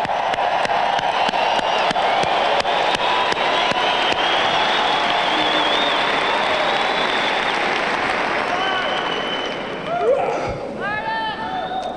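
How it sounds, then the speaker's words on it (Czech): An indoor audience gives sustained, dense applause that fills the room for about ten seconds before thinning out, with a voice starting to talk near the end. "Zatleskejte si."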